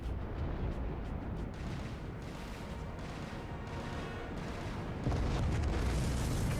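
Torpedoes strike a ship in the naval combat game Dreadnought, heard as a low, rumbling roar of blasts that stays steady and fairly faint, then swells louder near the end.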